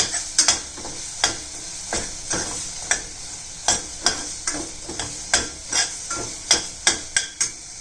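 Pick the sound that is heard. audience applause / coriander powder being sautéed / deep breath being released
coriander powder being sautéed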